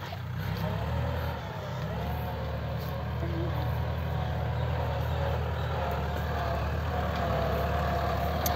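A tractor engine drones steadily while plowing land for banana planting, a continuous low rumbling motor that stays close and even throughout with no talk.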